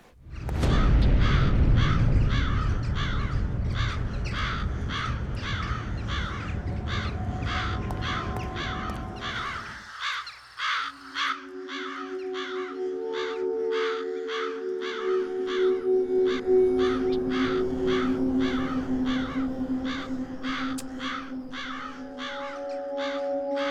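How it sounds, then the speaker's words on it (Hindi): Crows caw over and over in a loud, steady series lasting the whole stretch, the rhythmic calls continuing after a low rumble drops away, with a tonal hum underneath. "कौवे यहाँ पर ऐसे ही रहते हैं क्या? इनके कांव कांव ने मेरा सिर दुखा दिया है।"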